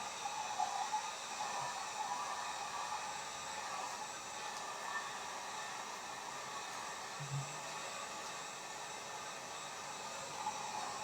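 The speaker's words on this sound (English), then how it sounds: "I'm going to give it one last blitz of my bright on top and hit it with my heat gun." A heat gun blowing hot air over painted paper while making faux rusty metal, a steady whooshing hiss running unbroken and fairly quiet throughout.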